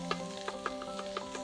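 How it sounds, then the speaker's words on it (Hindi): Onions frying for a bhuna masala produce a low, steady sizzle with soft, evenly spaced stirring taps, close but quiet, with no talking. "चलिए लगता है प्याज भुन गए,"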